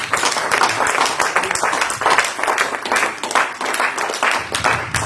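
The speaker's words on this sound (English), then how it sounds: "Clap your hands one time for Jesus." Church congregation clapping hands for Jesus during a sermon, a loud, busy wash of claps with uneven surges, continuing without a break.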